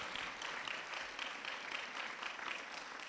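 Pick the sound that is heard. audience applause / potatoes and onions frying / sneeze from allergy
audience applause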